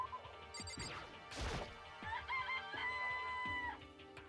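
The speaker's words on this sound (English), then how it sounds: "This place even has chickens, huh?" Chickens clucking and a rooster crowing in the game Danganronpa Trigger Happy Havoc, mixed with a crashing thud and electronic game tones; fairly faint overall, with no talk.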